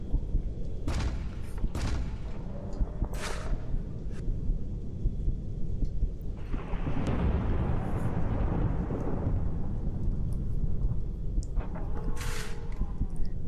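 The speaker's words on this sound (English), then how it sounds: "Hard to hear with like the thunderstorms going on." Thunderstorm ambience in The Joy of Creation horror game: several sharp thunder cracks and a long rolling rumble over steady rain-like noise, moderately loud with no talk.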